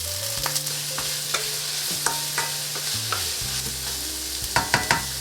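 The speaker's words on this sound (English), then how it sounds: "as soon as the oil starts smoky, we're gonna put the garlic, ginger, green onion, and the white onion first" Garlic, ginger, green onion and white onion sizzle in smoking-hot oil in a stir-fry pan, with a steady frying hiss broken by repeated scraping stirs and clanks of a utensil, a few sharper knocks near the end.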